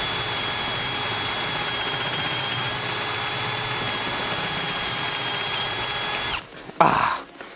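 A Milwaukee M18 FPD2 cordless hammer drill-driver runs at first speed as a steady high whine for about six seconds, then cuts off and leaves a brief clatter. The sound is close and loud, with no speech.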